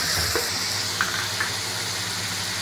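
Chicken frying in a pan with onion and garlic-ginger paste gives a steady, even hiss and sizzle, with a few faint clicks and scrapes and no talk.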